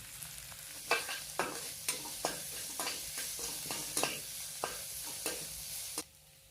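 Crushed garlic hits hot oil in a pan, sizzling steadily while a spoon stirs it with a string of sharp, evenly spaced scraping knocks, close and alone without talk.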